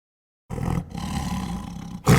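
Tiger roar from a sound effects library, a loud sustained growling roar lasting over a second after brief silence, with a second roar starting right at the end.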